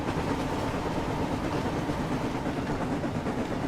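A steam locomotive in the Thomas and Friends: Wonders of Sodor video game rumbles steadily toward a station pulling mail cars, a continuous mid-level engine and rail noise with no voices.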